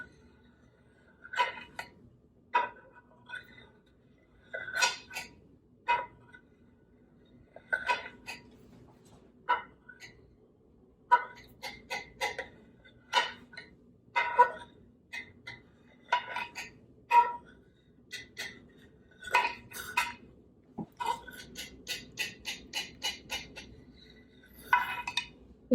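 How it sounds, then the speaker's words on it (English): A knife slices almond jelly into 1-inch squares on a dish, each cut ending in a crisp click or clink against the plate, repeating irregularly and close up in a quiet kitchen. "I'm going to just try cutting it into 1-inch squares."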